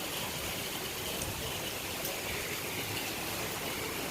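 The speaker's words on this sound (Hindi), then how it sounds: "ये देखो बारिश हो रही है" Steady rain falls outdoors in a broad, even hiss, close and continuous throughout, with no voices.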